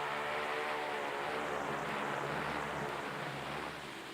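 U.S. Navy aircraft taking off on Operation Highjump in Antarctica: a loud, continuous engine roar and propeller drone fills the whole stretch and eases slightly toward the end, with no voices.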